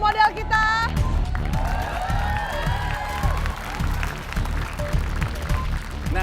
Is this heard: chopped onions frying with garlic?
no